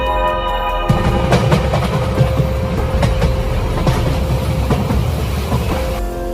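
A passenger train bound for Kashmir pulls into a station with a steady loud rumble and rhythmic wheel clatter on the rails, a sustained drone running throughout.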